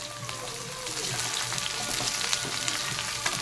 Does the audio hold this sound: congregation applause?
no